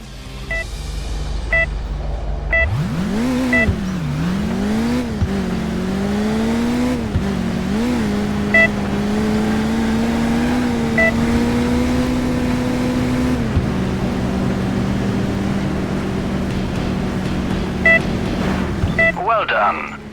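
Video game car engine in Autobahn Polizei revs up from a standstill and holds a loud, steady high-speed drone with pitch shifts as it accelerates toward a jump, alone with no talking.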